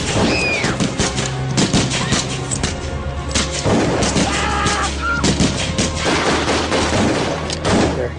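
Rapid bursts of gunfire ring out beside an airstrip near a small plane, loud and dense, with booming shots and crashes layered over a constant rumble for the whole stretch, and a few shouting voices caught in the chaos.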